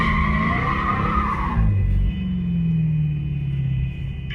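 A Hellcat Redeye slides with a sustained screech of skidding tires over a deep engine rumble, loud and close, shifting tone midway as the car drifts.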